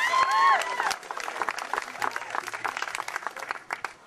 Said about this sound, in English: A round of applause for Sean, please.